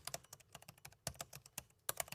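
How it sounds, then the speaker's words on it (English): Rapid typing on the Cherry MX mechanical keyboard of an MSI Titan GT77 laptop, a close, crisp run of clacky keystrokes in an uneven rhythm with a few heavier presses, heard alone. "that's exactly what Cherry MX switches should sound like."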